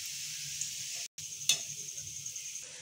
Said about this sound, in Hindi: तो अभी ये जो लेस हम लोग पहले लेस फ्राई करेंगे, इनको मैं ऐसे डाल दूँगी